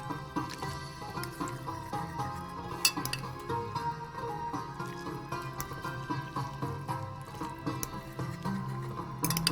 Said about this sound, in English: Now we're gonna stir.